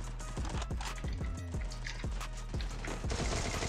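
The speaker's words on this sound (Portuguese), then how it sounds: "Ah, eu tô tomando tiro." Rapid bursts of gunfire from a video game played on the Bluestacks emulator, with dense, overlapping shots cracking in quick succession throughout and no talk over them.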